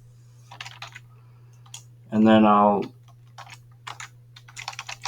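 Keys clatter on a computer keyboard in quick irregular bursts of clicks, heard both before and after a short stretch of speech, over a steady low hum.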